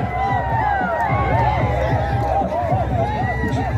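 Enthusiastic supporters at the final of a local cricket premier league cheer and shout in a loud, steady crowd roar, with overlapping voices and excited calls throughout.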